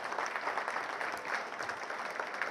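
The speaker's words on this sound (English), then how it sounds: "Let's give a round of applause to our next generation." A steady round of applause from an audience welcoming new heating, ventilation and air conditioning students at a technical college signing day, dense continuous clapping at moderate distance throughout.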